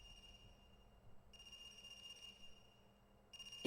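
A faint, electronic telephone ring in the video game AI: The Somnium Files sounds in two quiet trilling bursts over a low, hushed background.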